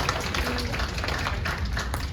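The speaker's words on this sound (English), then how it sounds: "give her a round of applause" A school audience at the Nashville School of the Arts claps for a young reader, a dense, steady wash of applause that fills the short moment without pause.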